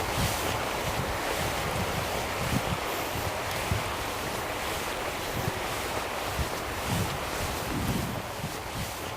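Steady rushing water and breaking waves fill the scene, a constant wash of flowing water with soft low thumps, no voices.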